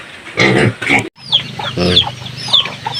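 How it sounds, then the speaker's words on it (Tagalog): Chickens and ducks cluck repeatedly nearby on a rural farm, short choppy calls mixed with higher chirps, loud and close with a few softer voices around. "May bibi, may manok."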